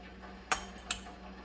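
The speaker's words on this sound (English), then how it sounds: "I'm trying to stir it up to make sure that the pineapple is evenly distributed when it goes into the jars" A spoon knocks twice against the side of a pot of pineapple jam during stirring, each a sharp metallic clink with a short pause between, near and fairly quiet.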